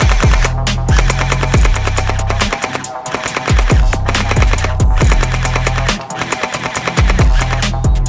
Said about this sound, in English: Let's fire this thing and test the accuracy.